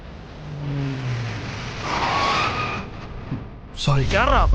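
A car speeding past and nearly striking someone on a road, its engine rising in a loud close roar that swells and fades, followed by a brief horn-like tone and the start of a voice.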